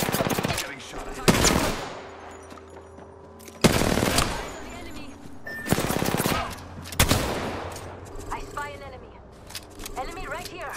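Gunfire from an Apex Legends match, with several loud bursts of automatic fire separated by short gaps and crackling echoes between them. Voices speak over the shooting.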